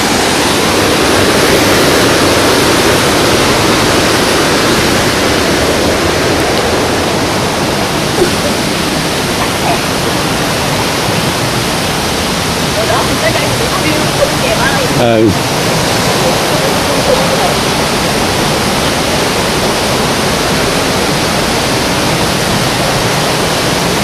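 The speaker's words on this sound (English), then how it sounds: "A lot of rain, so there's a lot of waterfall." Steady, loud roar of a waterfall on Hawaii's Big Island, swollen after heavy rain, filling the whole stretch as a constant broadband rush with no pauses.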